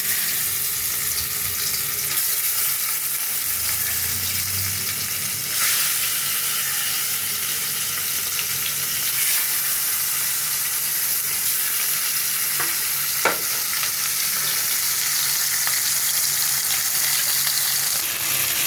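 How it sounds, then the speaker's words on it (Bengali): Surmai fish pieces coated in salt and turmeric fry in hot oil, a constant near sizzle with a few soft knocks and scrapes, no talking. "মাছটা এখন আমি ভালো করে ভেজে নিই"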